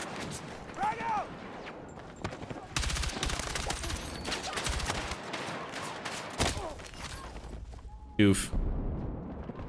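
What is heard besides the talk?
gunfire and frag grenade in video game Battlefield 6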